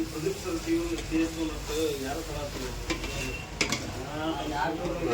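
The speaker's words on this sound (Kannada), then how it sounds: "ಅದನ್ನು ಸ್ವಲ್ಪ ಎಣ್ಣೆಗೆ ಫ್ರೈ ಮಾಡ್ಕೊಳ್ತಾ ಇರೋದು ಈಗ ಕೊತ್ತಂಬರಿ ಸೊಪ್ಪು ಹಾಕೊಳ್ತಾ ಇದ್ದಾರೆ" Coriander leaves fry in a little oil for a Rupchand fish curry, giving a steady sizzle with soft stirring scrapes while a voice talks quietly in the background.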